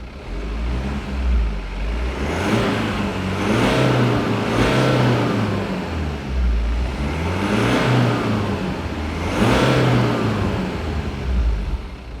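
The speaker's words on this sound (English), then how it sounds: "And now let's give it some revs." Diesel engine of a BMW X4 revs up and settles back repeatedly, four rising-and-falling swells of a mid-pitched growl heard close up with no talking.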